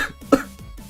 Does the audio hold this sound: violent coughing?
yes